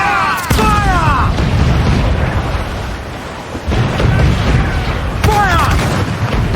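Ship cannons fire in the Assassin's Creed IV Black Flag video game, a sharp broadband blast near the start and another near the end, each followed by whistling descending streaks, over a continuous loud rumble of sea battle.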